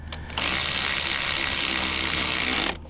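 A small Ryobi cordless power tool running on a lithium USB battery whirs steadily at close range for over two seconds after a brief start, then cuts off, with no talking over it.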